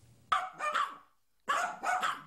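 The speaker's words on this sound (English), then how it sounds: "These four dogs were the only possessions the Clarks were able to save" Dogs give two loud barks close by, each a quick double yap, separated by a brief silence, with the home they escaped destroyed by fire.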